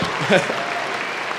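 A graduation audience at a college of engineering commencement applauds again. Dense, steady clapping fills the hall, with a brief voice rising over it.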